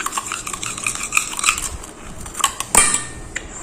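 A metal spoon stirs homemade coloured rangoli powder, made from crushed stone, inside a bowl, giving close, irregular scraping clinks and taps that build to a sharper clatter near the end.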